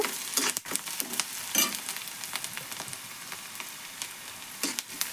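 Egg curry fries in oil as a quiet, continuous crackling sizzle, broken by scattered scraping and clicking of a spatula stirring the pan.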